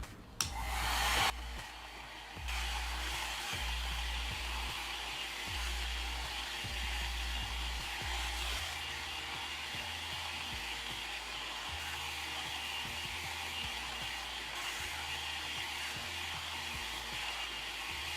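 Hair dryer with a diffuser blowing on a curly wig, a steady close whooshing drone after a brief louder burst at the start, running alone without talk.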